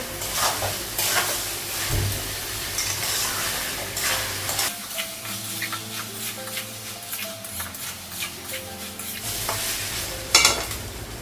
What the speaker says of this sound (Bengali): গ্যাসটা বাড়াবো চালটা একটু ভেজে নেবো